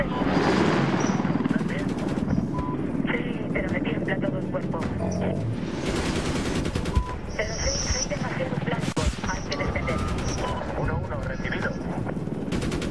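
Bursts of Medal of Honor gunfire crackle and pop amid busy mechanical noise, with a voice talking over the action.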